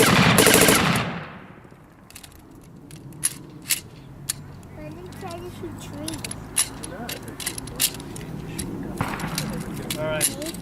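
A German MG42 belt-fed machine gun fires a short, very loud burst at a World War II reenactment event, then stops abruptly, leaving metallic handling clicks, clatter and background crowd voices.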